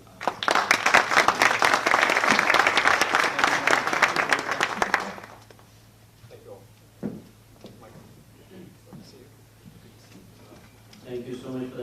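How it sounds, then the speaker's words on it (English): An audience applauds a panel at a policy event, with loud, dense clapping for about five seconds that then cuts off. Scattered claps and shuffling follow, and a voice begins speaking near the end. "give a round of applause for our panel"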